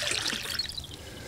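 Water trickling and pouring into a container in the survival game MIST Survival, a short steady splashing stream heard close with no talk over it.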